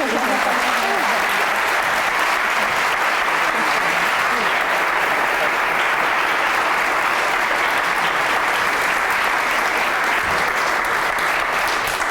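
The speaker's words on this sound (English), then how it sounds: "First, a round of applause, please" Dense, sustained audience applause fills a bookstore author talk, loud and even for about twelve seconds without a break.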